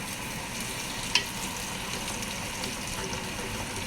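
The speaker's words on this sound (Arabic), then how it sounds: "ننزل البهارات ونحط الزنجبيل والثوم" Spices, ginger and garlic frying for chicken biryani give off a steady close sizzle with faint stirring and one brief clink, and no one speaks.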